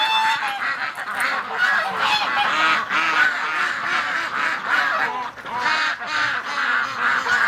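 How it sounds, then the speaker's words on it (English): A flock of geese honks continuously, many overlapping calls forming a loud, busy chorus nearby. "Oh yeah, the geese are mobilizing them"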